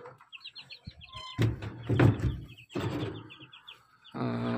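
Newly hatched chicks from an incubator peep in quick high chirping bursts close by, with a few deeper clucks and soft rustling sounds mixed in.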